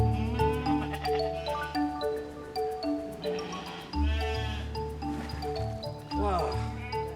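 Sheep bleating on a Tudor-era monastery farm: several wavering bleats repeat close by over seven seconds, some overlapping, with a person speaking briefly among them.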